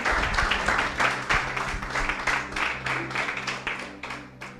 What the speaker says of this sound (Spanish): Dale un aplauso a Cristo por eso.